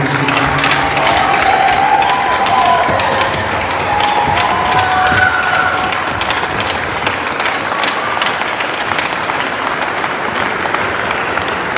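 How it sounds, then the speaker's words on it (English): Sustained applause and cheering fill a room at a hockey hall of fame induction ceremony, dense clapping from a sizable crowd with scattered whoops, steady and loud throughout. "one more round of applause, come on, please"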